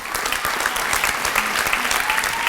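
Dense, loud applause from a crowd at the Pride of Peoria leadership awards ceremony, a steady wash of many hands clapping continuously without pause.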